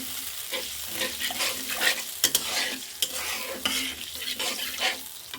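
Spice masala for beef bhuna sizzles and fries in a pan while a utensil stirs and scrapes it in repeated strokes, close and steady, with no talking.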